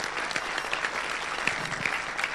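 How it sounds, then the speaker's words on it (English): Audience applause at a firearms directive conference in Malta, dense and continuous clapping filling the room with no talking over it. "So we should give a big, big applause to these people who made it happen."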